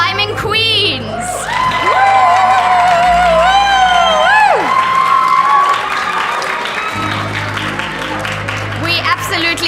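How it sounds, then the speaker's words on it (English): Crowd at a climbing competition in Cape Town cheering and applauding, with loud whoops and high-pitched shouts over steady clapping, while voices call out close by. "Can we please get a huge round of applause for these incredible climbing queens?"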